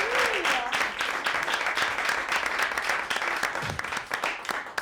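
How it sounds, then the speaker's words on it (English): Audience at a live comedy show applauds steadily for several seconds, a dense wash of clapping that holds at an even level throughout, with a brief murmur of voices near the start. "Everybody clapped?"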